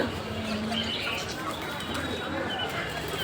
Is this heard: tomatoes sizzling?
no